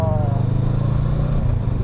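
A small, simple motorbike engine runs with a steady, close, low droning hum for the whole moment, with voices talking over it.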